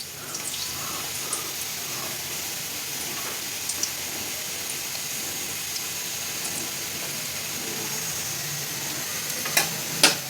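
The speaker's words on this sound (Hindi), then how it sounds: "अब इसमें हम ये बेसन के टुकड़े जो हैं इसको डालेंगे अलग अलग करके" Gram flour pieces fry in hot oil in a wok, a soft, steady sizzle heard fairly quietly, with a few light clinks and a couple of sharper knocks toward the end.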